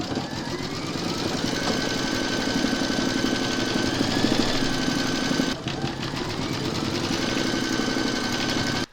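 An embroidery machine stitches an owl applique design, a loud, steady mechanical whirring with a rapid needle rhythm that runs continuously, with a brief dip midway.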